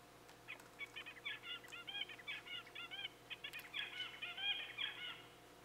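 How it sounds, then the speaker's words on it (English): An adult male zebra finch sings three renditions of its song motif, a rapid series of sharp, buzzy chirps and whistled notes repeated in quick bursts, close and clear over a low steady hum. "you'll hear the male singing, an adult male zebrafinch singing three renditions of this motif"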